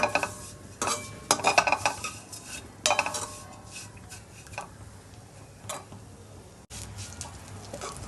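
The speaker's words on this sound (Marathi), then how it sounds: "शेवय आपल्याला गोल्डन भाजून घ्यायच्यात गोल्डन होईपर्यंत" Vermicelli being roasted golden in ghee in a pan, stirred with a utensil: light metallic scraping and clinking strokes in irregular bursts over a faint steady sizzle, close and fairly quiet.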